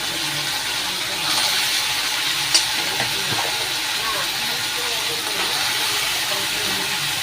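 Ridge gourd, potato and other vegetables hit a hot frying pan, and a loud, steady sizzling hiss runs throughout, with one brief clink partway through.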